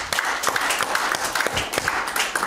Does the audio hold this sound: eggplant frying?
no